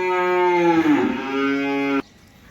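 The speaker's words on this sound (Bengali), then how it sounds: "গরুগুলার প্রত্যেকটা গরু চিল্লাইতেছে খাবারের জন্য" A single long, loud moo from a cow calling for food on a cattle farm, close by, its pitch dipping midway before rising again, then cutting off abruptly into quiet.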